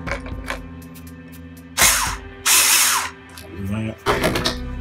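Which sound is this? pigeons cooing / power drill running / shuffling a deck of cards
power drill running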